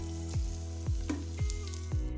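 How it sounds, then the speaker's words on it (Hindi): Garlic ginger paste frying in a pan for vegetable pulao, a steady sizzle with a low hum beneath and four regular stirring scrapes. "अब इसमें हम लहसुन अदरक का पेस्ट डालेंगे 2 खाने के चम्मच।"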